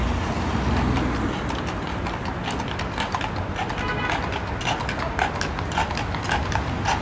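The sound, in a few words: horses' hooves clip-clopping on 6th Avenue, New York City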